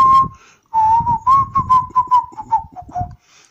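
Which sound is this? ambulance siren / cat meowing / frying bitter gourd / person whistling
person whistling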